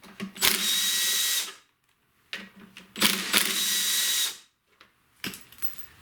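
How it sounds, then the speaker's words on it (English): An impact driver fitted with an 8mm socket backs out the bolts holding a lawnmower's air filter assembly to the carburetor, giving two loud, close whirring bursts of about a second each and then a brief third one. "I'm using my impact here with an 8mm socket."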